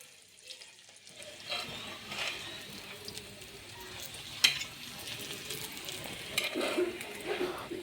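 A spinach-and-potato paratha brushed with ghee fries on a griddle, giving a soft, low sizzle with occasional light scrapes and one sharp tap as it is turned and cooked.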